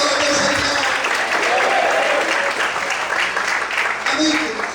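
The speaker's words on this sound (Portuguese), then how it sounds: "Você pode aplaudir mais uma vez e exaltar o Senhor" A church congregation applauding, dense continuous clapping filling the room from start to finish, with a voice speaking over it.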